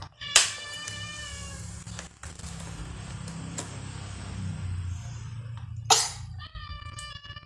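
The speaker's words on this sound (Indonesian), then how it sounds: "Kucing." A cat gives two loud, sharp meows close by, about five seconds apart, over a steady low background hum.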